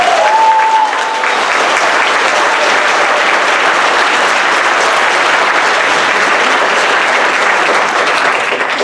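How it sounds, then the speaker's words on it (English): An audience at a middle school winter program breaks into loud, sustained applause, a dense wash of clapping from a large crowd that holds steady throughout with a few cheers near the start. "So give them a huge round of applause."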